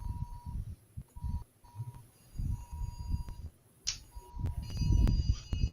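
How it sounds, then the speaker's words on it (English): An alarm beeps in short repeated tones under ongoing talk, faint and intermittent before growing louder near the end. "I hear somebody's alarm going off."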